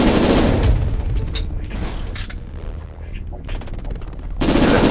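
Gunfire in the PS2 game Syphon Filter: Dark Mirror crackles in dense bursts at the start, then thins to scattered shots before another loud burst at the end.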